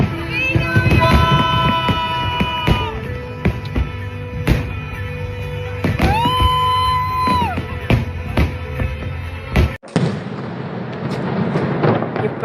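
Firecrackers go off in loud, repeated sharp bursts mixed with whistling, sustained tones, ending in a dense, noisy crackle.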